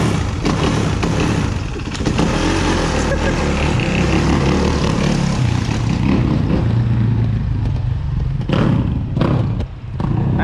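A 2008 Suzuki RMZ450 dirt bike engine runs loud and close, a steady rough roar with bursts of revving throughout, clattering and thumping layered over it.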